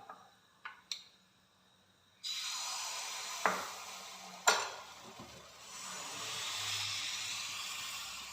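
Appam batter poured into a hot appam pan for wheat appam with palm jaggery, with a few sharp clinks and then a sudden steady sizzle that swells and hisses on, with occasional scraping taps.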